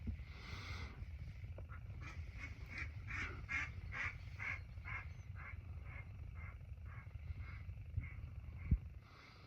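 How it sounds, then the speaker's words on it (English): A run of quacking from ducks, rhythmic and somewhat distant, fairly faint over a low outdoor hum, ending with a brief thump. "There's some ducks outside."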